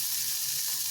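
Water poured onto hot oil in a wok erupts into a dense, loud hiss that holds steady for a moment, close up and without voices.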